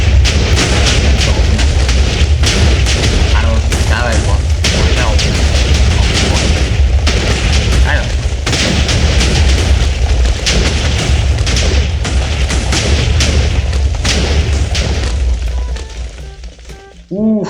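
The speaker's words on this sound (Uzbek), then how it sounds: "dahshat portladi." Rapid, relentless booms from mass-detonated TNT in Minecraft, a dense roar of overlapping blasts filling nearly the whole stretch at high volume, tailing off briefly near the end.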